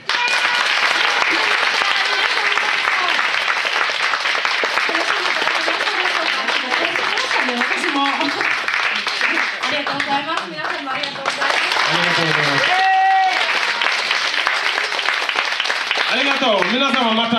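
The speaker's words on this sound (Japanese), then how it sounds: "皆様大きな拍手。" Loud, sustained audience applause and clapping at an African entertainment show in Hakodate, with voices calling and talking over the clapping throughout.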